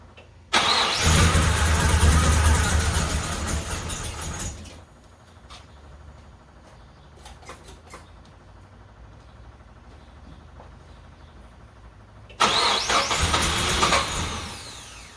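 A 454 big block V8 in a 1970 Monte Carlo cranks and fires, running loud and close for a few seconds, then cuts out; after a quieter stretch it starts and roars again.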